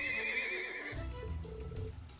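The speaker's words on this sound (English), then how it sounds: "It's too dangerous to just walk up to a spooked horse." A spooked horse in the video game Trails of Cold Steel II lets out a loud, shrill whinny, then snorts with low rumbling breaths, close and alone with no talk over it.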